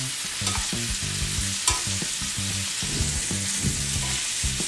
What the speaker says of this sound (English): and then we'll just baste the top.